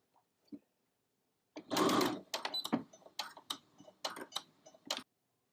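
A sewing machine stitches around the unnotched edge of a fabric stocking in a few quick bursts of clattering needle motion, separated by short pauses, after a faint click.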